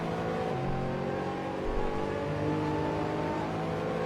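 GT3 race cars, a Ferrari 458 and a Mercedes SLS, roar through a simulated circuit at Mugello, their engines droning steadily with pitch shifts as gears change and one car follows closely in the other's draft.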